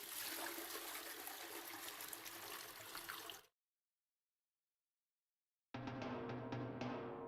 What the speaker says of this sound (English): Flush toilet, yes.